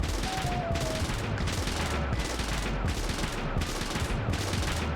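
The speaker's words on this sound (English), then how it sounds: "That's a gun sound, Keith." Gunfire effect from the video game Lisa: The Joyful, a loud, dense fusillade of rapid shots repeating in bursts about every half second over a heavy low rumble, with no voices.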